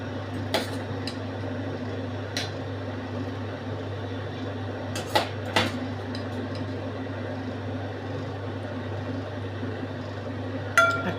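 Shukto curry with poppy seed and bori being served slowly from a pot into a dish, a few scattered metal clinks and scrapes of a spoon over a steady low kitchen hum, no talking.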